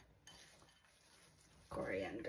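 Utensils stir and scrape through a bean salad dressed with honey, a soft clinking mix that grows louder and busier near the end, with a faint voice at times.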